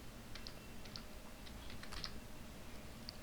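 Soft, rapid clicks of a computer keyboard as code is typed into an HTML and CSS file, irregular bursts of keystrokes at low level with no talking.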